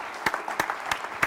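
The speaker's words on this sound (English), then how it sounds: "Everybody, please just give them a round of applause, all right?" Light scattered clapping from a small audience at a digital marketing leadership forum, a few distinct claps spaced unevenly over a quiet room, brief and moderately distant.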